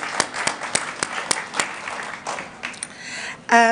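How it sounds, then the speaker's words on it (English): Scattered audience applause greets a panelist at a national convention in South Africa, with distinct claps standing out over a light background of clapping before a brief tonal sound at the end. "Can we have a round of applause?"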